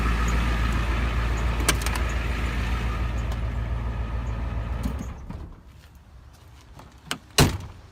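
A truck engine idles with a steady low rumble, then is switched off partway through, leaving near silence broken by a couple of sharp clicks or clunks close by.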